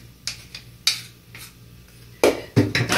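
A large spoon clatters and scrapes against a pan of cooking couscous in a home kitchen, a few sharp metallic knocks and scrapes spaced irregularly, close by and growing louder toward the end.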